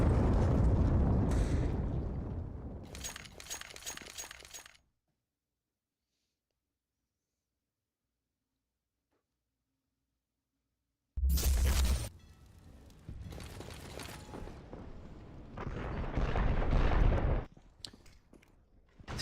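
Grenade explosions in a Counter-Strike match: a rumbling blast and debris, then a silent gap, then another burst followed by lingering explosive noise and crackle.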